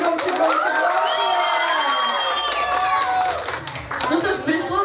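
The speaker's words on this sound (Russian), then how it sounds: "Аплодисменты у конкурсантка под номером 4, Алина." An audience cheers, shouts and claps for a contestant at a talent contest on the aft deck of a river cruise ship, loud crowd noise with excited voices and whistles throughout.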